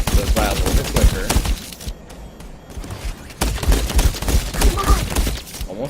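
Rapid bursts of gunfire from the video game Overwatch, as D.Va, crackle densely and loudly, break off briefly midway, then resume in a sustained volley.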